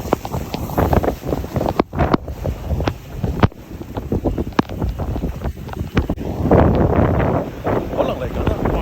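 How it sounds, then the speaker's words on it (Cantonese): A violent windstorm sweeps a Toronto Costco parking area, and strong gusts batter the microphone with continuous loud rumbling and buffeting while people talk nearby. "而家好大風"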